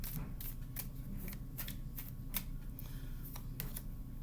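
A deck of tarot cards being shuffled close up, with a quick series of crisp riffling snaps and flicks in an uneven rhythm over a low steady background hum.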